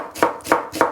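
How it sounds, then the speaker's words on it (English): Knife chopping an onion for a quick tomato sauce, three sharp, evenly spaced cuts on a board, close and clear with no talk. "Chop your onion as fine as you can."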